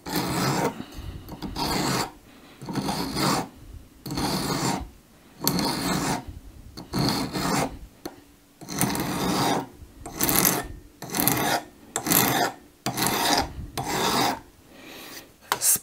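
A hardened hand file works a metal casting mold for lead, with loud, close rasping strokes in a steady rhythm and a few brief pauses.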